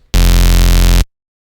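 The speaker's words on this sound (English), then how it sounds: "it's simply saw waves on both oscillators" A simple Serum synth preset with plain saw waves on both oscillators, no unison or detune, plays one loud, sustained, buzzy harmonic-rich note for about a second, then cuts off abruptly into silence.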